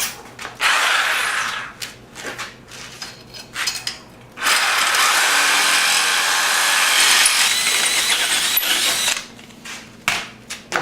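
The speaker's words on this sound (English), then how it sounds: "I'll have to drill it out a little bit bigger." A power drill enlarges a hole for a signal light on a Honda Sabre motorcycle, grinding loudly in short bursts and then one long continuous run, with brief pauses and clicks between.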